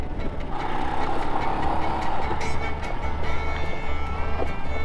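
A Royal Enfield Himalayan single-cylinder motorcycle engine is ridden on throttle along the Trans American Trail, a steady close engine drone with rising and falling revs as it pulls through the ride.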